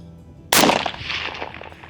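A single sharp rifle shot cracks out at a target, loud and close, followed by a decaying echo rolling away over open ground.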